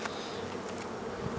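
Honey bees buzzing inside an open hive being inspected, a steady close swarm hum, fairly faint and continuous with no voices.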